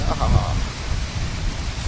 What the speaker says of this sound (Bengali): এই দেখো কি বৃষ্টি হইতেছে